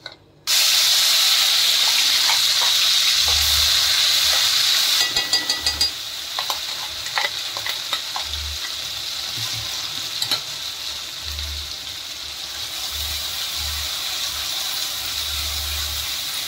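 Ground masala for chole hits hot oil in a tempering with hing, giving a loud, steady sizzle and frying hiss that eases slightly after a few seconds, with intermittent stirring clatter and low thumps throughout.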